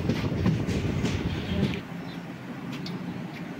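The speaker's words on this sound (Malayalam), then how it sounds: "ഇപ്പൊ അതേ മാരാരിക്കുളവുമായി, മാരാരിക്കുളത്തോട്ടെത്തി ട്രെയിൻ." Passenger train rolling into Mararikulam station in Kerala, heard from onboard as a steady rumble with clickety-clack of the wheels that eases slightly as it slows.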